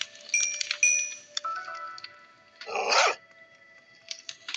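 A Minecraft dog yips and barks in short bursts, with high whines in between and one louder, longer bark near the middle, heard alone without talk.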